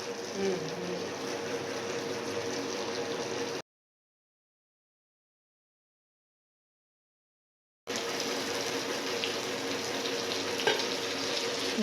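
Fried fish in a pan gives a dense, steady sizzle that is loud and close. The sizzle cuts to complete silence for several seconds midway, then resumes just as strong.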